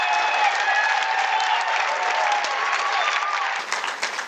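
A rally crowd in Buffalo applauds steadily and loudly with some whoops and cheers mixed in, then fades toward the end.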